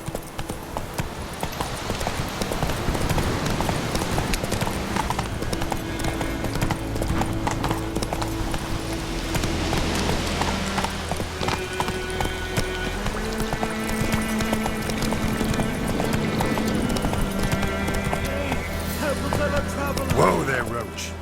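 Roach the horse gallops in The Witcher 3, hooves clip-clopping in a steady rapid rhythm close by, with game music and character voices talking over the hoofbeats.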